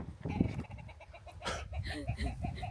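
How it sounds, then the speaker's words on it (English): A bird out on a hike in Edinburgh calls repeatedly in a cackling, laugh-like series of clucks, fairly close and overlapping with outdoor background noise. "That fucking bird won't stop laughing."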